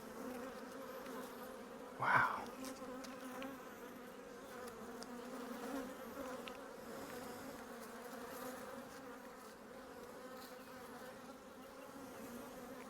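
Honey bees drone softly during a hive inspection, a faint, steady layered hum with one bee briefly buzzing close by near the start, and no talking.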